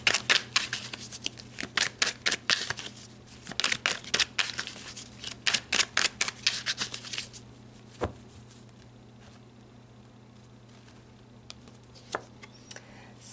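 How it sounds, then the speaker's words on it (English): Tarot cards being shuffled and pulled, with rapid close riffling and snapping bursts for several seconds, then a quiet stretch broken by a few single card flicks and slides. "So let's pull some more cards."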